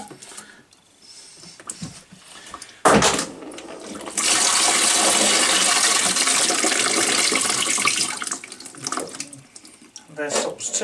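A toilet cistern empties into a bucket during a syphon washer repair, a sudden loud gush that holds steady for several seconds and then tapers to trickles, with someone talking before and after.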